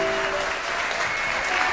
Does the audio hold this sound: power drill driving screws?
no